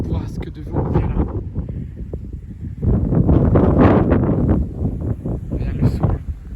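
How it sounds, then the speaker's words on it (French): A strong northeasterly bise blows by a raging sea, its gusts buffeting the microphone with loud, rough rumbling that rises and falls while someone talks over it. "Il bourrasque devant, viens là."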